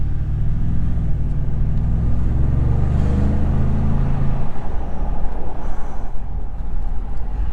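A 2023 Ford F-150 with the 5.0 Coyote V8 breathing through a Speedys muffler gives a deep, steady exhaust rumble. The drone carries on throughout and grows rougher and more textured near the end.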